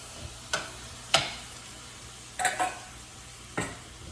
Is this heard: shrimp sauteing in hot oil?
yes